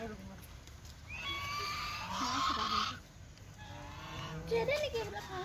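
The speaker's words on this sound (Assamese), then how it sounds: "বহুত ৰাজহাঁহ আছে" Geese honk loudly and repeatedly at the Haleswar temple in Tezpur, harsh calls coming in bursts near the listener while people talk over them.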